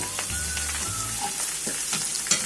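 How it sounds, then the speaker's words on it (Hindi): Whole garam masala hits browned onions in a hot pan, giving a steady, close frying sizzle with a few soft stirring scrapes and no talking. "अब हम इसमें अपना गरम मसाला डालेंगे, साबुत गरम मसाला।"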